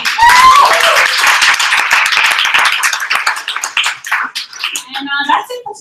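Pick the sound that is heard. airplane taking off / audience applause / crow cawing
audience applause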